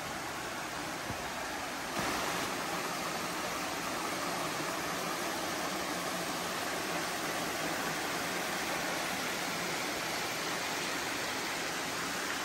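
A stream in Hickory Run State Park rushes over rocks, making a steady, loud, broadband wash of water that runs unbroken and close by throughout.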